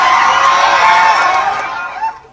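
An audience claps and screams together in a dense burst of cheering that fills the clip, then fades toward the end.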